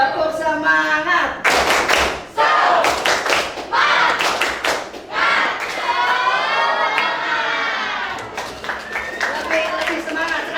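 A class of children doing rhythmic spirit clapping: loud sharp claps in patterned bursts mixed with children chanting together, near and energetic.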